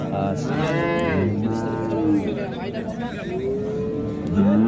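A young calf moos several times in long, drawn-out calls, close by, at a livestock market in Karshi, with a busy crowd chattering in the background.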